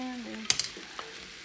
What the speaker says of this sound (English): now we're just gonna stir this around a bit